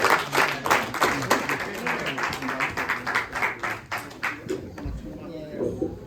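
Applause from a church congregation during a deliverance service, a rhythmic run of claps sustained for several seconds under voices talking and singing, fading near the end.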